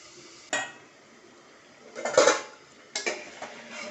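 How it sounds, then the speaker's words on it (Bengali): Metal pot lid and utensil clatter against a pot of cooking rice: a sharp clank, a scraping burst of stirring, then another clank, fairly close and moderately loud with quiet gaps between. "এখন এই ঢাকনাটা খুলে দিলাম, দিয়ে একটু নাড়াচাড়া করে নিচ্ছি।"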